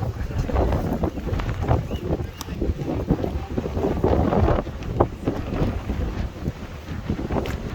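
Strong wind buffets the microphone in heavy, rumbling gusts on Alcatraz Island, a constant roaring bluster that rises and dips without letting up.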